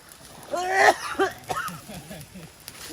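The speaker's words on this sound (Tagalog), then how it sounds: "Inuubo ka na." A brief cough or throat clearing nearby, followed by a few softer throaty sounds outdoors.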